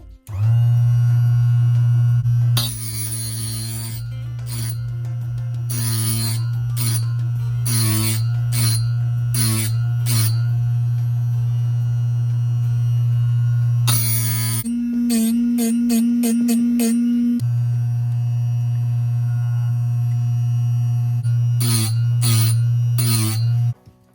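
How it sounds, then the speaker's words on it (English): A chisel is drawn back and forth on a Ferrex magnetic sharpener. A loud, steady low hum runs throughout, broken by repeated short, harsh grinding bursts as each pass is made. "put the chisel against that and it's magnetised, and then take passes backwards and forwards"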